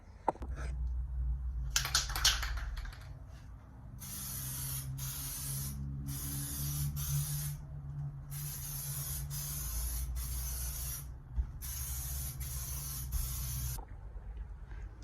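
Electric orange base coats are sprayed onto a MK2 Focus ST car door in a series of close hissing bursts of varying length, separated by short pauses, over a low background hum.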